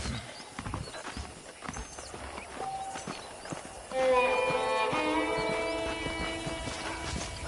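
Hooves clip-clop in a steady walking rhythm in the video game Red Dead Redemption, joined midway by a horse's whinny, over a soft background of ambient noise.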